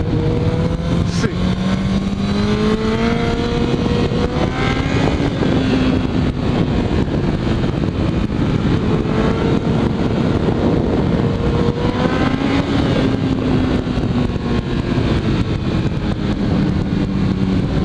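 Kawasaki Ninja ZX14R motorcycle engine rising and falling in pitch as it accelerates out of corners, heard from the rider's position under heavy wind noise, with someone talking over it.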